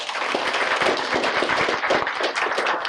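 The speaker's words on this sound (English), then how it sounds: "Let's give a round of applause for our seniors." Audience applauding seniors at a morning gathering, a dense crowd of hands clapping steadily and fairly loudly throughout the short stretch.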